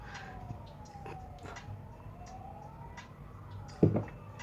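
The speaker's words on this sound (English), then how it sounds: "there's a siren outside" A siren wails faintly in the distance outside, its tone slowly rising and falling throughout, with a brief louder knock near the end.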